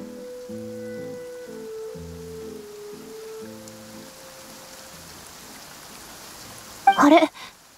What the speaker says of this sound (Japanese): 雨が降ってる。